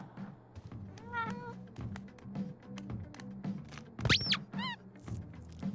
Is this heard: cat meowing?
yes